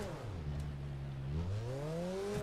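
Mazda MX-5 circuit-spec engine in The Crew pulling through the gears, pitch climbing and dropping at a shift, with a second harmonic layer sweeping upward; close, steady and alone.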